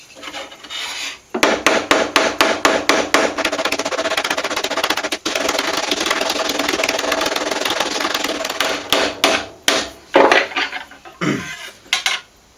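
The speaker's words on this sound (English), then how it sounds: "So I've got some hammered texture on here now." A metal hammer strikes a copper trapeze tailpiece for a custom guitar, adding texture in rapid, ringing metallic blows that run in dense bursts with brief pauses, close and loud.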